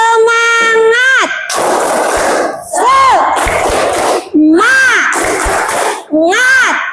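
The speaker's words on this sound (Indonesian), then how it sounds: "Ya, kita tepuk semangat dulu biar tambah semangat. Tepuk semangat." Elementary school children do the 'tepuk semangat' clapping chant in a classroom, with loud rhythmic claps that alternate with sung and shouted group vocals and a teacher's rising chant-like calls.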